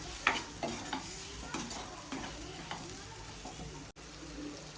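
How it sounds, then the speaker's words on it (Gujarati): Okra and potato masala frying in a pan, stirred with a spoon that scrapes and taps the pan in an irregular rhythm over a steady close sizzle. "સારી રીતે મસાલાને મિક્સ કરી લઈશું."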